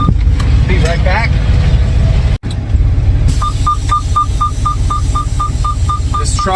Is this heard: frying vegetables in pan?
no